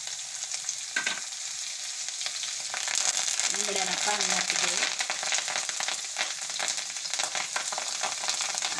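Asafoetida and green chillies crackle and sizzle in hot oil, a bright steady frying hiss that swells midway, with faint scraping and no talk.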